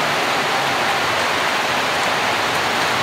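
Heavy rain roars in Iligan City, Philippines, a dense, unbroken hiss, loud and close, with no pauses or voices.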